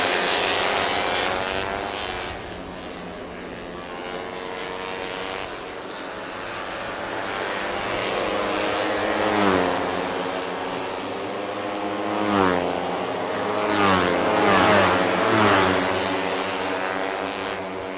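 Racing motorcycles, including a TVS Apache RTR 160, scream past at a national championship track, their high engine whine rising and falling in repeated Doppler sweeps as bikes pass near and fade, loud and continuous without voices.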